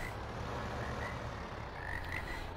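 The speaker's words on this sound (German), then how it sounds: "Hier zirpen ja die Krähen, die Frösche, ja." Frogs croak repeatedly at a pond on the Two Rivers map of Landwirtschafts Simulator 2015, the calls steady and moderately faint over a low, continuous game ambience.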